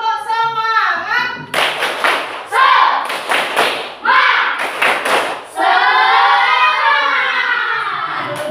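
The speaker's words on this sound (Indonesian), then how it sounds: "Tepuk semangat." A primary school class performs a rhythmic spirit clap, sharp unison claps and thumps in quick patterned bursts, with children chanting between the clapping groups.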